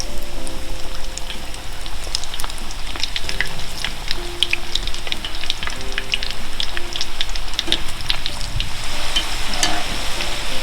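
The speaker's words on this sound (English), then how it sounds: "I'm gonna put it in the second time. Let it fry it again." General Tso chicken pieces deep frying a second time in hot oil, a dense, loud, continuous crackling sizzle with scattered sharp pops, steady throughout.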